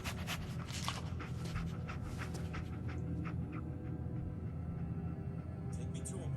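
Dogmeat, the dog companion in Fallout 4, pants steadily and close up through the whole stretch, with a low game ambience rumble underneath and faint sniffing or whimpering hints.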